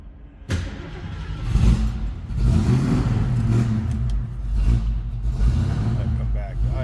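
A 1967 Ford Mustang engine catches abruptly, then runs with uneven revving surges before settling toward a rough idle, with people talking nearby.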